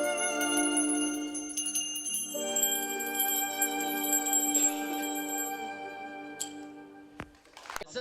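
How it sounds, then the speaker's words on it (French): Bell-like tones with sustained, ringing harmonics carry a clown's musical number played on bells, the notes holding steadily and fairly loud before a sharper strike near the end. "tu as un extrait, pardon, avec des cloches de la musique"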